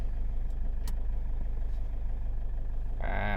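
A car engine runs steadily and close by with a low, even rumble, and a higher whirring hum joins in right at the end as the car pulls away in first gear.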